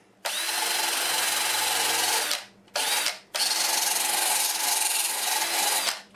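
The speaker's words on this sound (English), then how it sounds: "I used this little orange nylon brush, and I went over all of it" An orange nylon brush scrubs a hard white crust off lightning-struck pear wood bark in three loud, close, harsh scratching bursts: a long stroke, a short one, then another long one, with no voices.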